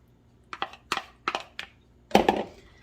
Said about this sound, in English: We're going to go ahead and add that cornstarch water mixture, give it another little stir